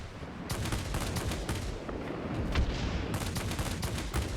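Aircraft cannons on a Ki-162-III fighter firing in World of Warplanes. A dense, steady rattle of gunfire runs continuously under engine noise, with repeated sharp bursts punching through.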